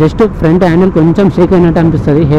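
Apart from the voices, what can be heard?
None of the usual background noises is heard.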